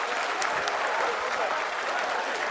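Applause from a large crowd at the ISRO event marking the Chandrayaan-3 lander's landing on the Moon, a steady dense wash of clapping that holds evenly throughout.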